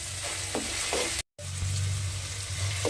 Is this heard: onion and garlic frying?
yes